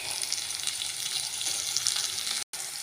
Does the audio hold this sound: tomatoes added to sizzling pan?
yes